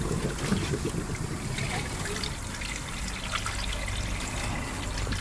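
The water pump of a 2016-2019 Hyundai Ioniq Electric 28kWh pushes coolant through the system during a coolant change, making a steady gurgling trickle that stays even and close throughout, with no talking.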